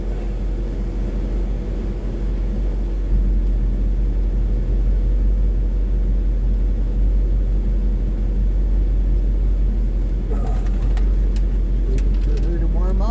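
A van's engine idles steadily on a cold day while warming up before a drive, a constant low rumble running the whole time with a brief lighter rattle near the end.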